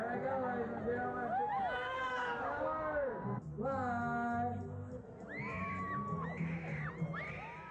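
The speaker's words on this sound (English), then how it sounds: "What's all that screaming about?" Riders screaming on the Skycoaster ride at Opryland, high wavering shrieks and whoops that rise and fall, mixed with people talking over the noise.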